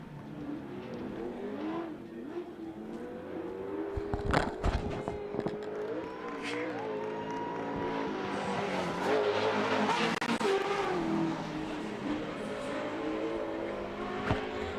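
Pro 2 short course off-road racing trucks at a Great American Short Course round, engines revving and whining through gear changes with tire skids and scuffs, a dense steady race roar at moderate distance.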